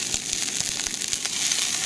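Trout fillet sizzles in an oily skillet after lemon juice is poured over it at a backcountry cooking spot, giving a steady close crackling hiss with scattered pops throughout.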